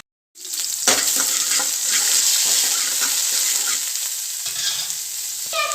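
Oil sizzles and crackles loudly in a hot pan, starting abruptly after a moment of silence and continuing with steady hissing and spatter.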